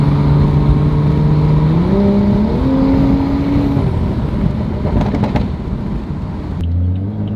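A stage 2 BMW 435i with increased boost accelerates hard through a full pull, its engine note climbing steadily and loudly, then cutting off as it drops back to a low rumble near the end.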